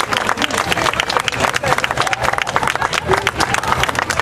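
Loud, dense applause from a large crowd at a Schützenfest concert in Neuss after a tribute band performance, continuous rapid clapping mixed with crowd noise and a few voices.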